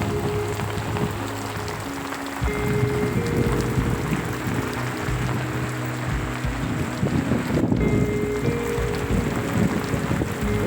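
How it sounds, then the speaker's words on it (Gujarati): Torrential rain in a village farmyard, a steady, dense, close roar of heavy downpour with gusty wind noise, continuous for the whole stretch and no voices. "મુસળધાર વરસાદ"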